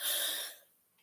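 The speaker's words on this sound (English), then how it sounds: "Sorry about the coughing" A single short, breathy cough from a woman with a head cold, close to the mic, trailing off into quiet.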